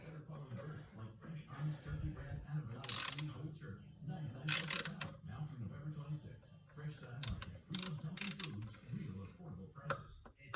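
A clicking torque wrench tightening an intake manifold bolt on a 2007 Ford Crown Victoria, with soft ratchet clicks and tool handling under quiet speech and a few sharp bursts.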